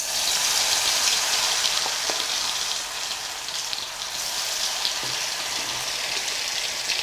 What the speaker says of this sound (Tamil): நம்ம மிக்ஸ் பண்ணி வச்சுக்கக்கூடிய வாழைக்காயை கொஞ்சம் கொஞ்சமாக போட்டு பொரித்து எடுத்துடலாம்.